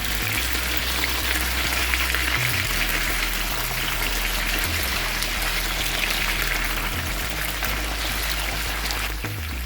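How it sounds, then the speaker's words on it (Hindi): Thin potato slices frying in a pan of oil, a loud continuous dense sizzle and bubbling that holds steady throughout with no talk. "अब इसे हम फ्राई करेंगे, गोल्डन ब्राउन होने तक इसको फ्राई करेंगे।"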